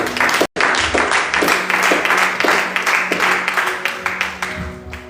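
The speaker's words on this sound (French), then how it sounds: "Acclamons pour la parole de Dieu" A church congregation applauds together in sustained, dense clapping that stays loud and steady for several seconds after a brief dropout at the start.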